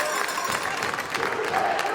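Crowd at a varsity girls' ice hockey game applauding and cheering in an arena, a steady broad wash of clapping throughout with no clear talk on top.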